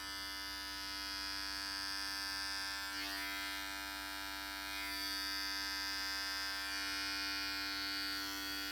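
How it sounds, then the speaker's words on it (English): Electric hair clippers buzz steadily and close while trimming hair around the ear during a classic side part haircut, a continuous motorized hum with slight shifts in tone as the blade moves, no talking. "I'm going to take the back corner of the clipper, very slowly roll that out"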